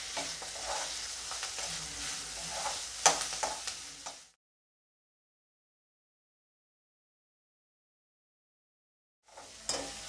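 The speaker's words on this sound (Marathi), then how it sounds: "आता इथे मी कांदा आणि कढीपत्ता टाकून घेते।" Onion and curry leaves fry in a pan with a bright sizzle and some stirring clinks for about four seconds, then near silence, before the sizzling briefly returns at the end.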